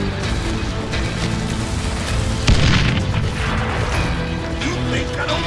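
A single heavy gunshot booms midway in a western shooter game, sharp and close, rising out of a dense, rumbling backdrop of music and ambience.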